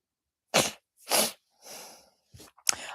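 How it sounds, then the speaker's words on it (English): A person sneezes twice in quick succession, close and sharp, followed by breathy exhales and a third smaller sneeze or sniff near the end, with no talking. "I have been sneezing like crazy, and I'm not sick."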